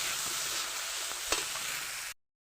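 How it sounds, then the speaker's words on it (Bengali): Urad dal being stirred together with fried banana blossom fritters in a pan gives a quiet, steady sizzle with one sharp utensil tap, then cuts off abruptly into silence. "এবার আমি ডালটা মিলিয়ে দেব, বড়াটা তো মিলিয়ে দিলাম, নেড়ে ছেড়ে দেবো।"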